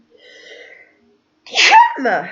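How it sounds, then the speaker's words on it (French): A quiet breathy intake followed by a pause, then a single loud, close sneeze. "Attends, je vais éternuer."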